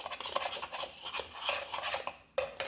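Salt and oregano being mixed by hand or utensil for a cottage cheese flat bread, giving soft repeated rubbing and scraping scratches at a close, quiet level, with a brief pause near the end, no talk.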